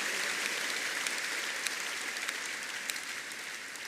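A church congregation applauding loudly, dense sustained clapping from many hands filling the space without a break.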